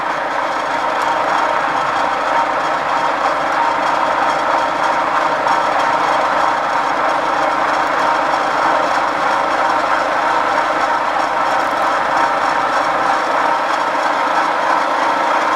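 A crankshaft grinding machine works a crank down to undersize with a steady, dense mechanical whir and grinding hiss that holds unbroken at even loudness throughout.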